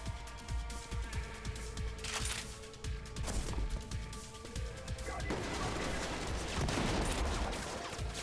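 DMR rifle fire in the video game Trepang2, sharp repeated shots in quick irregular bursts, loud and close, with a denser crashing barrage of gunfire toward the end.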